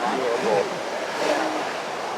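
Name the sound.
ocean waves at a skimboarding wedge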